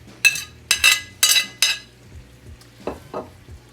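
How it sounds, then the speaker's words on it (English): Cooked potatoes and onions tumble back into a hot frying pan in four quick, bright sizzling bursts, followed by softer scraping and stirring, close up with no talk. "I'm going to go ahead and add my potatoes and onions back in"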